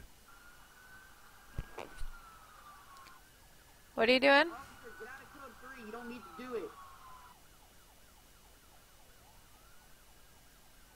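Police car siren in a video game wails in rising and falling sweeps through most of the stretch, joined by a brief loud burst of noise midway, with people chatting over it.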